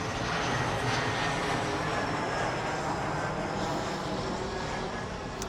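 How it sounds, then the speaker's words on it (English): An airplane passes overhead at a commercial fence job site, a steady broadband engine roar that holds fairly loud for several seconds and eases slightly at the end. "Let's let that plane pass."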